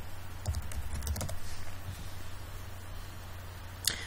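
Keys clack on a computer keyboard, a short run of quiet, separate taps over a low steady hum, spaced irregularly, with one sharper click near the end.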